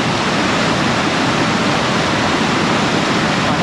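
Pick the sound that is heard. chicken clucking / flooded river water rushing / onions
flooded river water rushing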